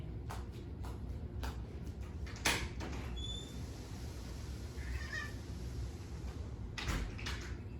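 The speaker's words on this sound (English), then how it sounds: "Let me try to let this cat in again." A cat waiting to be let in indoors gives a few faint, thin meows over steady background hiss, with sharp door-like clicks and knocks around them.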